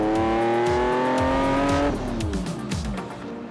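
Lamborghini Diablo SV engine revving hard, a loud rising howl that climbs steadily, then drops off into a burbling idle with a few lighter blips, close by and with no talk.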